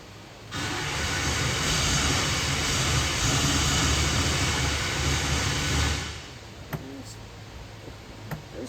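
LS V8 engine cranking after a shot of brake cleaner, a loud continuous starter whir and churning for about five seconds that then stops, followed by faint clicks.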